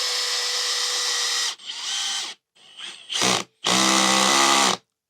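A Makita DHP485Z cordless drill driver drives a 5 mm diameter screw, its loud close whine running in several bursts of varying length with short pauses between, the motor pitch dropping as the screw bites, with no talk.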